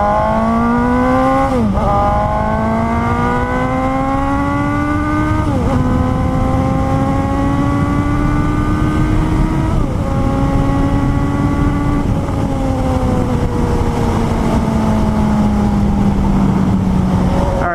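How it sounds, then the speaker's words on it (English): A 2018 Suzuki GSX-S 750 motorcycle with its muffler removed and a straight pipe fitted accelerates hard through several gears, each rising rasp ending in a quick shift drop, loud and close for the whole stretch with no talking. "taking the muffler off this bike and just having a pipe on it, it sounds so good."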